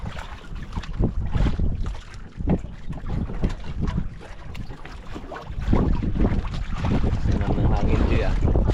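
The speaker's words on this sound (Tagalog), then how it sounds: "Tindi ng hangin ah. Mas lalong naman ah." Strong wind at sea buffets a small fishing boat, roaring and gusting loudly across the microphone with a rising, sustained rush toward the end, along with water and hull noise.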